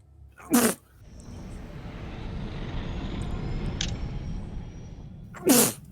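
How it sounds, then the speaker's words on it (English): Two sharp, loud human sneezes, one near the start and another near the end, separated by a steady low background hum. "No, sneezing fit."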